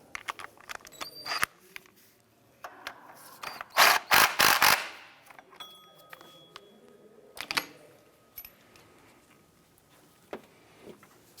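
Tools click and ratchet intermittently while engine mount bolts are snugged down on a 2004–2008 Acura TL, with sharp metallic ticks and a short burst of quick ratcheting in the middle, close and fairly quiet.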